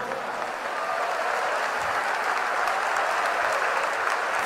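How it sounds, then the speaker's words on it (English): A church congregation claps steadily through the whole stretch, a dense, even wash of many hands filling the room at a constant level with no talk over it. "Clap your hands"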